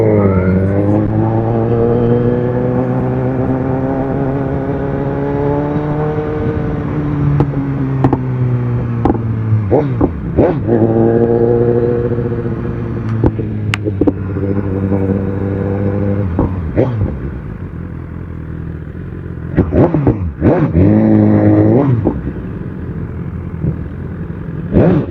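Close, loud engine drone with strong harmonic tones from an AMG car accelerating on a Berlin street at night, rising and falling through several revs and gear changes over about twenty-five seconds, with a few sharp transient bursts.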